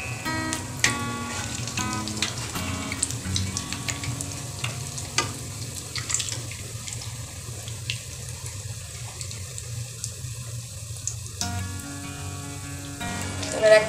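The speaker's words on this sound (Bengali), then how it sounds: "গ্যাসের ফ্লেমটাকে মিডিয়ামে রেখে ধীরে ধীরে এটাকে ভেজে নিতে হবে।" Bread slices fry slowly in a pan over a medium gas flame, giving a steady low sizzle with scattered soft clinks and scrapes from utensils; a brief stronger burst of crackling comes near the end, with no talking.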